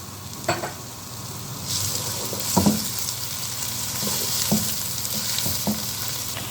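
Cabbage fries in hot oil for a vegetable shiro dish, a quiet continuous sizzle broken by a few soft knocks from a stirring utensil.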